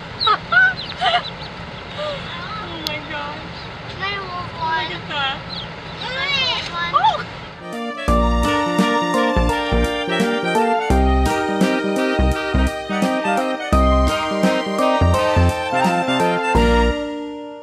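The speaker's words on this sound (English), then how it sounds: "Peking ducks" Several Pekin ducks quack and squawk noisily up close for several seconds before rhythmic music takes over.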